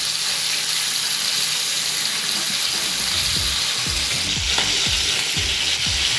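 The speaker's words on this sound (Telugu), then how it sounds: "ఇవి 2 పక్కల తిప్పేసి ఫ్రై అయితే చేస్తున్నాను" Chicken pieces for chicken changezi fry steadily in hot oil, a dense continuous sizzle with occasional low knocks of pieces being turned in the pan.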